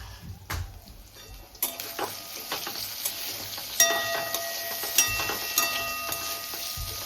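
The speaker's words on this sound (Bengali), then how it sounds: "বেগুনগুলো সুন্দর করে ভেজে নিতে হবে" Eggplant pieces fry in a pan with a continuous crackling sizzle, punctuated by repeated spatula taps and scrapes against the metal, close up and with no voices.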